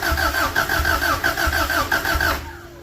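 An old car engine being cold started, the starter cranking in a fast, steady rhythmic whirr for over two seconds, loud and close, then cutting out without the engine catching.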